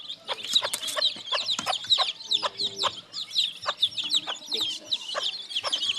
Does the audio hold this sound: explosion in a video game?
no